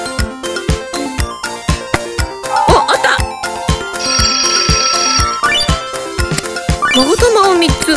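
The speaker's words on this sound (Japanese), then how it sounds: "わー、電話鳴ってます、電話鳴ってます。" A telephone ringtone trills repeatedly in a video game, regular electronic rings punctuating a busy stretch of game music and effects, with someone speaking over it.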